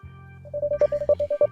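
Phone keypad tones in a video game beep one after another in a quick, even string of about nine short notes, as someone dials the police.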